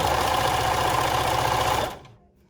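A sewing machine runs steadily as it stitches fabric for a scrunchie hair band, a loud, even mechanical whir that winds down and stops near the end.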